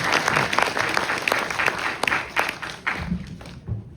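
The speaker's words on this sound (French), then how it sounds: "On peut applaudir maintenant." An audience at a school graduation ceremony applauds, a burst of dense clapping that thins out toward the end, with a few low thumps.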